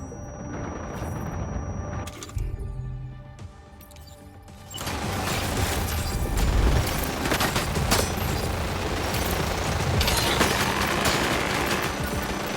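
Heavy sustained gunfire from Death Stranding 2, a dense volley of overlapping shots and crashes that starts sparse, then swells into loud continuous firing for most of the span.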